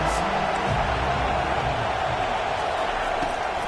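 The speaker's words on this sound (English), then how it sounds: "Big third down as the crowd gets behind this defense." A football home crowd roars steadily behind its defense on a big third down, a dense, continuous wall of stadium noise without distinct peaks.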